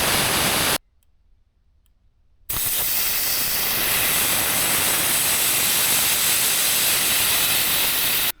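Air rushing from a tyre through a valve core deflator while airing down for beach driving, a loud steady hiss that stops briefly for about two seconds, then resumes and continues strongly.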